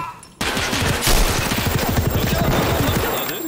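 Rapid full-auto gunfire in the video game Escape from Tarkov: a long, dense burst of closely spaced shots that starts abruptly and rattles on loud and close for about three seconds.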